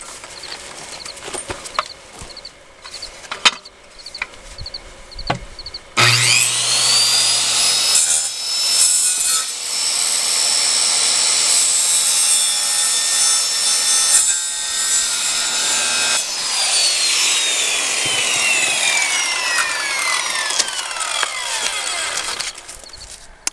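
A power saw cuts through wooden house skirting pieces, with some handling knocks first, then a loud sustained whining cut lasting many seconds, its pitch shifting as the blade works, before winding down.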